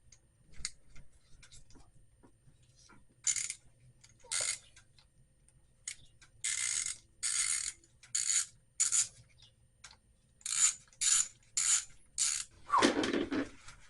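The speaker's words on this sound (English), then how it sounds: "going to pop the oil filter cover off. These are 8mm bolts." A ratchet backs out the 8mm bolts on the oil filter cover of a Gen 3 Kawasaki KLR650 motorcycle. Close, crisp bursts of rapid clicking repeat in a steady rhythm of short strokes, with no talking.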